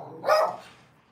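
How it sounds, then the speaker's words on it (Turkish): A dog gives a single short, fairly close bark that fades quickly into a quiet indoor room. "kendisini iyi hissedince havlamaya başladı"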